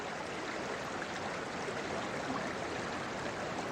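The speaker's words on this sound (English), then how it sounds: "Fast, clear running water." Fast, clear water runs steadily over rocks in a mountain stream, a dense continuous rush with no breaks, fairly close and even in level throughout.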